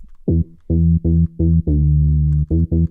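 A plucky sawtooth synth bass from the Diva synth, envelope linked to the filter cutoff, plays a short funky riff of staccato and held low notes, with a resonant filtered bite, loud and alone.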